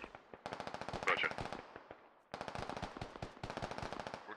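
Rapid machine-gun bursts in the military shooter Squad, fired from a base-of-fire position: two long sustained volleys of sharp shots separated by a brief pause, with faint radio voices underneath.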